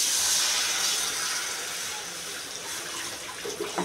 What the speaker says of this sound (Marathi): आता यामध्ये आपण जेवढं पाणी पाहिजे तेवढं पाणी टाकायचं आहे,